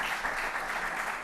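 Audience applause at a Catalan lecture event, a dense and steady wash of clapping that carries evenly throughout, moderately loud and with no voices over it.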